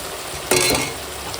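Fish curry with chopped leaves being stirred in a cooking pan, a brief burst of scraping and sizzling in the middle over a low steady kitchen background.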